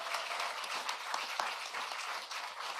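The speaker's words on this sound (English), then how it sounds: "You can give yourselves a round of applause." Audience applause for scholarship recipients at a New Mexico student debt relief event, a steady broadband patter of many hands clapping at moderate distance, fairly quiet and even throughout.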